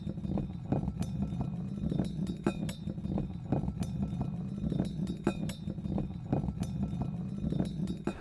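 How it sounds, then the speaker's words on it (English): A metal pipe rolls across a solid wood floor, giving a steady low rumble studded with frequent small metallic clinks and clanks that keep up a loose rattling rhythm, close and moderately loud with no voices. "the sound of metal pipe rolling on solid wood floor to use for our rattly old wheelbarrow"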